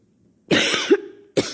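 A woman coughs in two bursts: a harsh double cough that trails into a brief throaty rasp, then a short silence and another sharp cough, close and clear with nothing else around.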